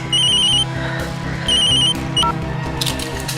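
A telephone bell rings in a household scene from an Indian crime drama, with two clear bursts of ringing over steady background music and a short electronic chime near the end.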